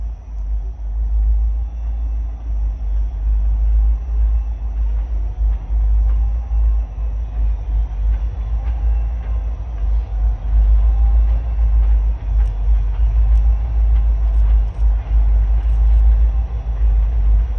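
Norfolk Southern freight train H43 rolls into Northumberland Yard in Pennsylvania at dusk, a loud continuous low rumble of wheels and cars with faint squeals and clicks, no voices.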